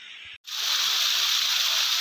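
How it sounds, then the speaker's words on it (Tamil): After a brief cut, a steady bright rush of falling water fills the scene, a constant close hiss of a small waterfall at Jamunamarathur, Tiruvannamalai district. "இதுதான் தண்ணி கொட்டுற சத்தம்"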